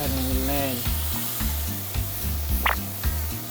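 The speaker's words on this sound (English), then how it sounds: "You hear that sizzle? That's what you want." Steak searing in a very hot pan, a loud, steady frying sizzle with crackling pops throughout and a low rhythmic thumping underneath.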